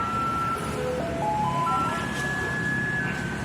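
Garbage truck in Taiwan playing its melody, a thin electronic tune of stepped, rising tones heard faintly over steady street and traffic noise.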